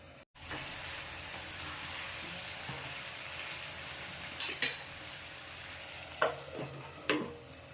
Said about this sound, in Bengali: এবার বন্ধু, ঢাকা তুলে ঘন ঘন নাড়া দেব।